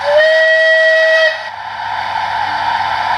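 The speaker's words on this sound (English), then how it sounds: "that is a Bulleid chime" A Bulleid chime steam whistle plays from a DCC sound-fitted OO gauge Bulleid SR Leader model locomotive, a sustained clear chime of about a second and a half, then fading into continuous hissing steam.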